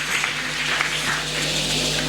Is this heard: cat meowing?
no